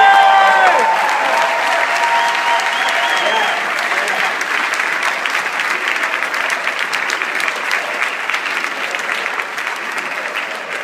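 A rally crowd in Miami applauds and cheers for veterans, dense sustained clapping with shouts and whistles, loud and continuous across the whole stretch, with a voice trailing off at the start.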